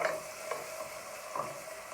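Chicken and sweet potato curry cooks in a pan with a soft, steady sizzle and brief stirring scrapes, close by with no talking.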